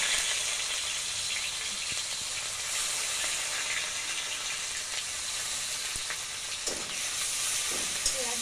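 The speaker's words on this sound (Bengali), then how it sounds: "পেঁয়াজ বাটাটা এবার ভালো করে কষিয়ে নেব" Onion paste fries in hot oil with bay leaf and dried chili for an egg curry, giving a steady, loud hiss and sizzle throughout with a few faint scraping clicks.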